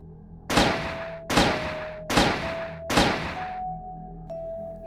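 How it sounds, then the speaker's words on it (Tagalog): Four loud gunshots ring out in an evenly spaced series, each a sharp blast with a short echoing tail, followed by a faint fifth tap. "sunod-sunod na putok ang umilingaw-ngaw sa lugar"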